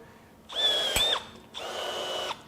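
A Milwaukee cordless M12 or M18 FUEL rivet gun pulls an aluminum rivet with two short bursts of motor whir, close and moderately loud, and a crisp snap in the middle of the first burst.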